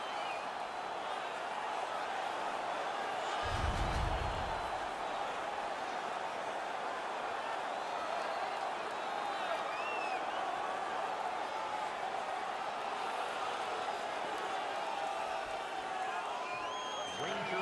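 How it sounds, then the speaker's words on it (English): Arena crowd in the NHL 19 ice hockey video game, Winnipeg Jets against New York Rangers, a steady roar of cheering throughout, with a low thump near the start and play-by-play commentary running over it. "The crowd is all over them right now."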